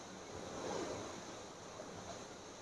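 A waterfall at a camping spot roars as a steady, faint wash of rushing water, with no voices over it.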